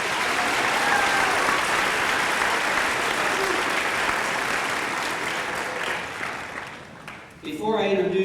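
A graduation crowd at Kent State East Liverpool's spring 2016 commencement bursts into loud, dense applause that rolls on steadily for several seconds, then fades as a voice starts speaking near the end.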